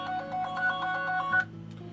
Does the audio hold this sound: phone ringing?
yes